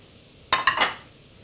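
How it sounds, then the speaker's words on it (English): Shallots and garlic dropped into hot butter in a pan give a short burst of sizzling and clinking that swells for about half a second and then fades back to quiet. "I'm going to put in there quickly my shallots, garlic."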